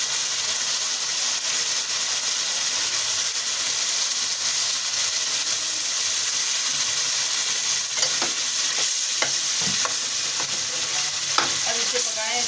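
Mashed eggplant bharta cooks in a spice masala with a loud, constant sizzling hiss; from midway, clustered scraping and stirring strokes rise above the frying.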